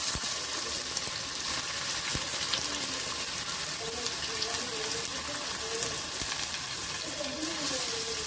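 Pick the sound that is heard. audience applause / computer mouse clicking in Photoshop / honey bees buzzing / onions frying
onions frying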